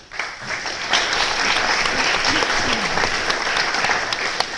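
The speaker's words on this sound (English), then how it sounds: "We can give you a round of applause, please." An audience at a tech conference keynote applauding, a sustained, full burst of many clapping hands that swells quickly and holds at an even, loud level throughout.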